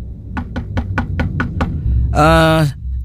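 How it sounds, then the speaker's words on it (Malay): Seven evenly spaced knocks on a hotel toilet door, close and distinct, with a short tonal sound following them. "Saya ketuk pintu tandas sebelah."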